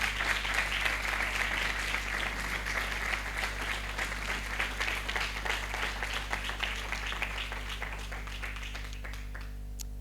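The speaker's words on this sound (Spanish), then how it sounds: "Denle un aplauso al Señor." A church congregation breaks into sustained applause, a dense wash of many hands clapping that holds steady for about ten seconds and thins slightly toward the end, with a low steady hum underneath.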